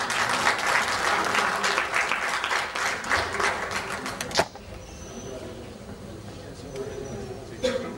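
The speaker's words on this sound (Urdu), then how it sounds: "آپ کی پرزور تالیوں میں" Audience applause at the Faiz Mela cultural gathering in Stockholm: dense, loud clapping for about four seconds that cuts off sharply, leaving a quieter room with faint murmurs.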